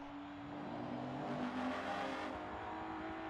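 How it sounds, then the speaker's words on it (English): A race car coasting on empty fuel at Monza during a charity championship race, its engine sputtering and cutting out in a steady smeared drone that swells slightly and fades, heard alone without talk. "The engine's cutting out."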